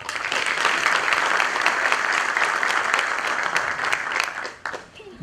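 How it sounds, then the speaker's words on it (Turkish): An audience at a sports awards ceremony gives a standing ovation for about five seconds, a dense steady wash of clapping that fades out near the end. "onlara ayakta alkışlıyorum"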